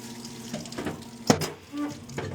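Water spraying and splashing while a race car wheel hub is washed clean before its bearings are repacked, a steady close hiss of running water with a brief sharper splash midway.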